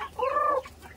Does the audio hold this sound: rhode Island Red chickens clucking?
yes